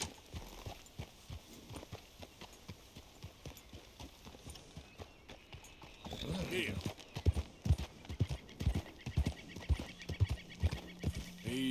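Horse hooves clip-clop at a steady walking pace in Red Dead Redemption 2, growing louder and more distinct halfway through, with a faint whinny and soft ambient sounds.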